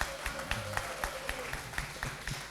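A small studio audience on a live music show in Gabon claps for a singer, a sparse, fairly quiet run of distinct handclaps in loose rhythm over a faint background hum.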